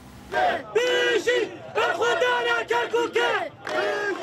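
A crowd of Kurdish Peshmerga supporters chants slogans for the defence of Kirkuk. Loud, rhythmic bursts of many voices shout in unison, each phrase separated by short pauses.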